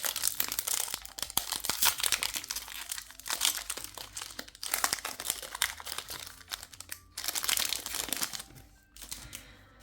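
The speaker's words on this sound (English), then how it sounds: "I just like opening the packs and looking at the cards." Yu-Gi-Oh card pack wrappers are torn open and crinkled close to the mic, with dense bursts of crackling plastic and short rips coming in waves before a quieter pause near the end.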